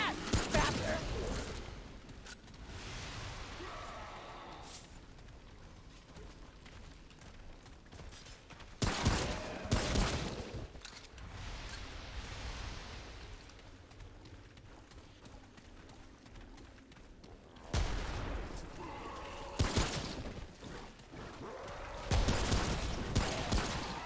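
Pistol shots in the video game Remnant: From The Ashes ring out as loud, sharp bursts spread across a quiet, creaking background, with scattered clusters of shots.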